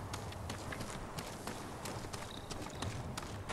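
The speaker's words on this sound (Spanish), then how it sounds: "Bueno, pues llevamos a nuestro caballo." A horse's hooves beat a quick, steady clip-clop rhythm while it runs in the samurai video game Ghost of Tsushima, moderately faint, over a low ambient rumble.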